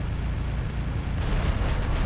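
Big cannon fire striking the player's giant mech in War Robots, heavy low rumbling impacts with a couple of sharper bursts late on, fairly loud and continuous.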